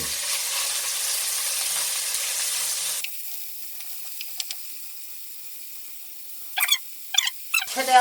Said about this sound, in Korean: 최대한 볶아주도록 할게요